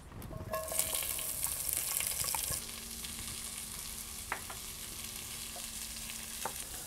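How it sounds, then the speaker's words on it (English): Onion sautéing in oil in a pan, a loud, dense sizzle at first that settles into a softer steady crackle, with a few faint utensil taps. "Now we want to start with saute the onion."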